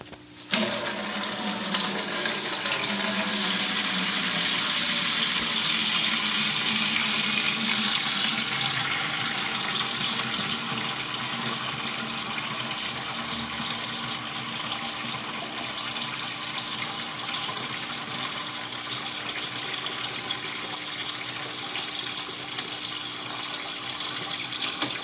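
Water draining from an aquarium tank, 15 to 20 gallons being pulled out, a steady continuous rush and trickle that runs unbroken from start to finish, slightly louder in the first seconds.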